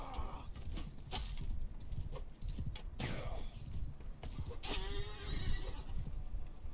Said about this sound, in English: Yeah, get that horse.